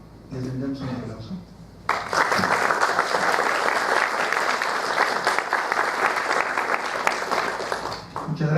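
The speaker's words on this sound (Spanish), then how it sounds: "Les pido, por favor, les brindemos un aplauso." Sustained, even applause from an audience at a journal presentation on electoral crimes, rising abruptly after a brief spoken introduction and continuing loud and steady for several seconds.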